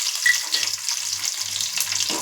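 Small onions sizzling as they drop into a hot pan, a steady close crackling hiss with light stirring clatter, no voices over it.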